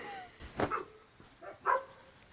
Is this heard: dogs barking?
yes